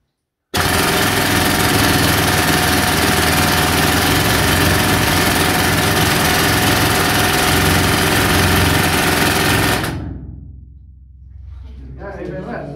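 An air-powered rock drill roars to life in an old Bendigo mine, a loud, steady hammering rattle running for about nine seconds before cutting off abruptly, leaving a faint echoing hiss.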